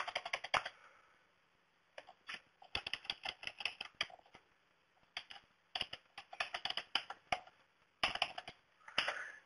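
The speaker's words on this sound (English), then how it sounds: "Or we can do a manual entry, and this is where we simply type in the account number" Quick bursts of clicky key presses on a computer keyboard while entering an account number into an expenses app, close and quiet, with short pauses between runs.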